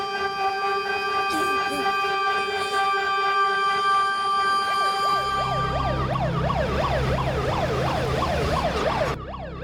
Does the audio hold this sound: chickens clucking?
no